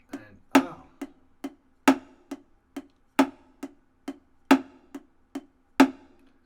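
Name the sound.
drum pattern, left-hand accent on last triplet note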